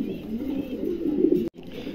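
A big Lakha pigeon gives a low, throaty coo close up in one rolling phrase that breaks off abruptly and then starts again faintly.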